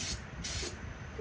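Brake cleaner sprays onto braided 6AN power steering hose fittings in two quick, close hissing bursts with a short pause between them, alone and fairly quiet.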